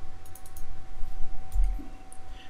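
A few sharp computer mouse clicks, close and crisp, spread across a quiet room with a low steady hum behind them.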